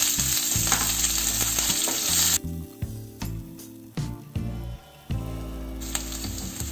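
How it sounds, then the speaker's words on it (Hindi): Chopped onion, green chilies, mustard seeds and curry leaves frying in oil for poha, a steady close sizzle that drops back in short breaks and then returns, with no talk over it. "हमें प्याज को सिर्फ कलर चेंज होने तक पकाना है।"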